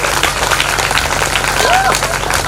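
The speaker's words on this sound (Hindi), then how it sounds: "एक बार दुबे जी के लिए जोरदार ताली।" Applause from an audience gathered at a Bhagwat Katha religious discourse in Chaujeetpur, Basarahi Bazar, dense clapping running throughout under a loud voice speaking over it.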